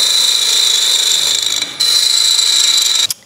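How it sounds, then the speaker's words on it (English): A wooden gonk figure spins on a lathe while being sanded, giving a loud, steady high whine and friction hiss that briefly drops out twice as the sandpaper lifts. "So we'll give this a quick sand up now."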